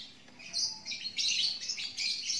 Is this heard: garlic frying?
no